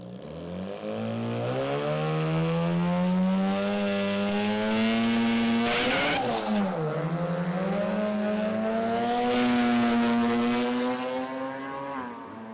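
A little Mazda wagon race car with a 13B rotary engine screams off the start line at a drag racing event, a loud sustained high-revving drone that rises, dips briefly at a shift, then climbs again before fading slightly.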